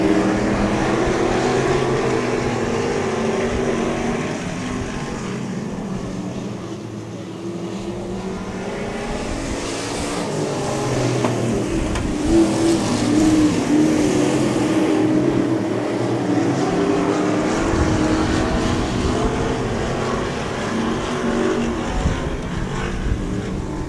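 Race cars circle the oval at Heart O Texas Speedway, a continuous loud engine drone that swells and fades slightly as cars pass, with no talk over it.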